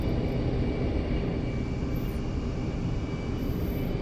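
Aircraft engine in the flight game DCS just after takeoff from the runway, a loud, steady, dense roar with a constant whine running through it and no talk.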